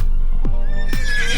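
A Shire horse neighs loudly and close by, giving a short whinny followed by a second, longer descending one, with no voices.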